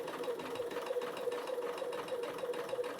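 A sewing machine runs steadily while top stitching fabric, a close, continuous mechanical whir with a fast, regular needle pulse throughout.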